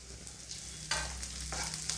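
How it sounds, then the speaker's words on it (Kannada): Green chillies frying and sizzling in a hot pan for a peas curry, a steady close hiss with stirring scrapes that grows louder partway through, with no voices. "ಇದು ಸ್ವಲ್ಪ ಹೀಟಲ್ಲೇ ಫ್ರೈ ಆಗಿಬಿಡಲಿ."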